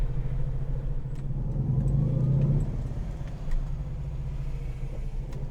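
A Lancia Flavia flat-four engine pulling smoothly in fourth gear at low revs through a 30 zone, a steady low rumble with a slight swell in the middle, heard from inside the car with no talking.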